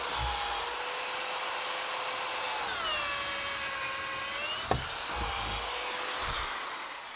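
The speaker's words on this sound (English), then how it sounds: "So this stud now needs to get 2 holes drilled in it." A power drill whines steadily and then drops in pitch as it bites into a wooden stud in a tiny house, followed by a sharp knock and a second shorter run of drilling.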